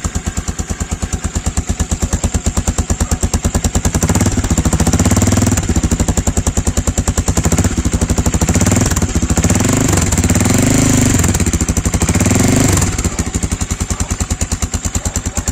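Gamma 200 motorcycle fitted with a Yoshimura muffler, a loud, close, rapid pulsing exhaust that swells in several repeated revs and then settles, with no speech over it.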